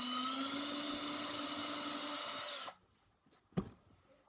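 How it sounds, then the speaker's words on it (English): A small power drill whines at high pitch for over two seconds as it bores pilot holes in a wooden fishing lure. It then stops abruptly, followed by a quiet pause and a single sharp knock. "now we are moving on to drilling out our pilot holes"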